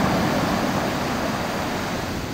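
Ocean waves break steadily on a beach by a beach bar in Gazipaşa, Turkey, a continuous loud broadband wash of surf and rushing water with no voices over it.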